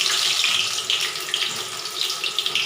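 A single test piece of soybean manchurian drops into hot oil and fries with a close, steady bubbling hiss and crackle that lasts the whole short stretch, with no voices.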